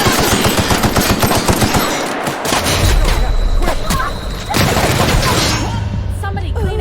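Rapid automatic gunfire in The Outer Worlds video game, dense bursts of loud shots in a sustained fusillade with a heavy boom partway through, no talk over it.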